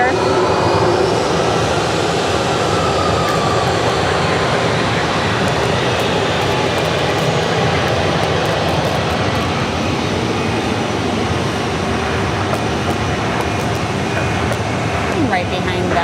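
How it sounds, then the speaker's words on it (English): A Contour Aviation Embraer jet arrives at Phoenix Sky Harbor Airport, its engines producing a loud, continuous roar with a slowly shifting whine as it passes close by. "Shortly we'll have coming in from Page, Arizona, Contour Aviation, Flight 3301. That'll be an Embraer."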